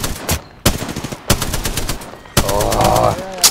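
Bursts of automatic gunfire from the video game Sekiro: Shadows Die Twice, three or four sharp volleys cutting in loud and close, with a brief tonal in-game sound near the end.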